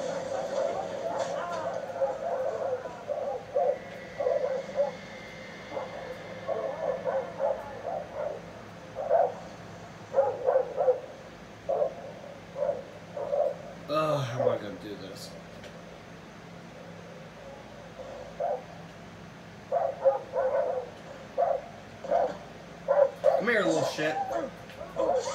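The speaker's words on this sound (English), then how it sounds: "Oh, there's dogs after me" Dogs bark, yip and whimper in the video game Far Cry 3, a steady run of short calls with a couple of louder outbursts, mixed under game audio and someone talking.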